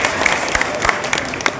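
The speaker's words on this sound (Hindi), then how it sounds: "इनका स्वागत एक बार ताली बजा के किया जाए।" A crowd gathered at a political rally preparation meeting in Purnia claps in welcome, a steady patter of applause that continues throughout, fairly loud and close.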